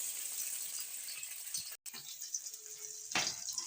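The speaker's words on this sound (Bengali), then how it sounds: "ওই তেলেই আবার বেগুন ভেজে নেব।" Brinjal (eggplant) pieces frying uncovered in hot oil, a steady bright sizzle that runs throughout, with a brief drop near the middle and a louder burst of crackle toward the end.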